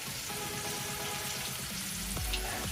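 Potatoes fry in a pan with a soft, steady sizzle. Stirring scrapes and knocks sound close by, and no one speaks.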